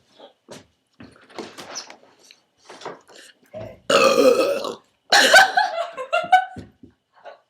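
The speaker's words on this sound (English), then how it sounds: "How do you even burp?" Loud, long burps in a home burping contest, two big drawn-out belches near the end, with quieter laughter and scattered talk between them.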